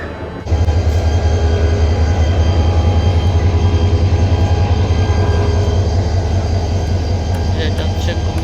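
The Mahanagar Express, hauled by a 2900-series locomotive, runs at night, a loud, close, deep rumble that kicks in abruptly and holds steady to the end.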